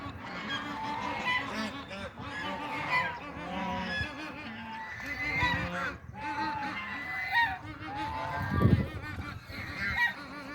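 A flock of wild geese honks beside a river, many overlapping calls in a busy, continuous chorus, moderately close with a few nearer honks standing out.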